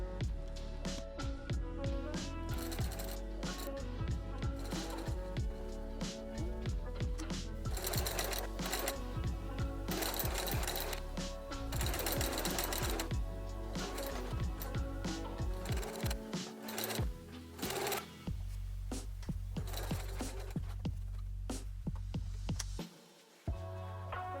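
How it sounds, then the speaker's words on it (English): A sewing machine stitching the side seams of a skirt, a long run of steady close mechanical whirring with brief pauses and restarts, no speech. "Sew the side seams, pivoting at the markings at the beginning and end of the pockets."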